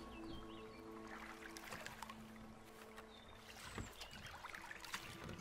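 A small boat being paddled in The Last Campfire video game, with soft water swishes and splashes from the oars over steady music and ambient game sound, with no speech.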